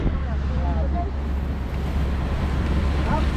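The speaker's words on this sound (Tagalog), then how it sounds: "Kita pala dito sa lugar ni Katyaw ay malabagyo ang hangin" Strong, stormlike wind at sea on a boat travelling from Mindoro to Navotas, a steady loud roar buffeting the microphone throughout, with faint voices in the background.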